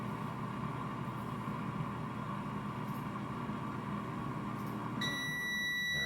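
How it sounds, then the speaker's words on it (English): A steady air fryer oven hum runs throughout, then near the end a clear electronic beep sounds and holds as a tone. "I'll just wait for it to beep"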